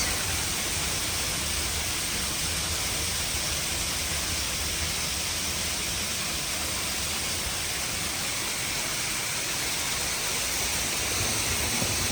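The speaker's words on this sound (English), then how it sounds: "Well, that's some sleet." Sleet falls in a steady, unbroken hiss, even and dense throughout, with no voices.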